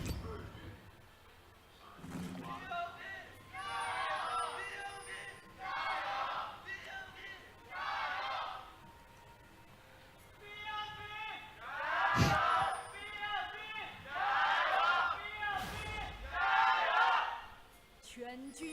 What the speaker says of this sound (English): Let's hear it from the fans as they cheer on their teams